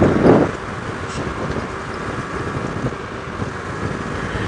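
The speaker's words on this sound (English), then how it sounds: "And guess what? It's windy." Strong wind buffets the microphone during an outdoor sunset safari drive in an open vehicle, a steady rumbling roar with a louder gust at the start.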